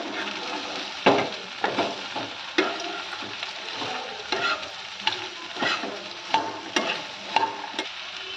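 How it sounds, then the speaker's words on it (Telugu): Okra pieces fry plainly in hot oil without salt, a steady sizzle broken by repeated scraping stirs of a spatula in the pan, close and moderately loud with no talking. "ఇలాగే కాసేపు ఒక 5 నిమిషాల పాటు మనం మధ్య మధ్యలో బాగా కలుపుకుంటూ వేయించుకోవాలి."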